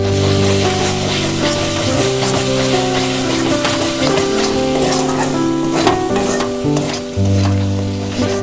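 Spice paste for chana masala fries loudly in hot oil, a steady close sizzle with stirring scrapes that continues throughout, alone with no talk.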